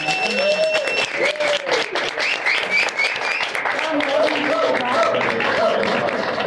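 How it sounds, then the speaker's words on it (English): Audience applause at a museum grand opening, steady dense clapping from a crowd filling the space, with a voice speaking over it throughout. "could we please give Don Wirtshafter a round of applause for decades and decades and a lifetime of work"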